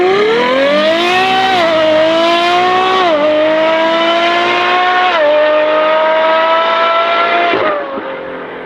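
A full-carbon Novitec Ferrari 812 N-Largo S V12 revs hard and close, its loud, high engine note climbing in pitch through several rising surges before dropping away near the end, with no talk.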